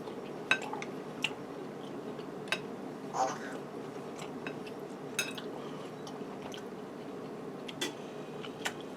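A knife and fork cut into a tender skillet-cooked pork chop on a plate, giving scattered light clicks and scrapes over a quiet room hum.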